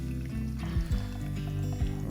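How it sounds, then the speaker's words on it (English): Running water splashes and trickles as a crayfish tail is rinsed under a tap, a close, continuous pouring sound with small gurgling changes, no talk. "We'll just give it a quick run under the water."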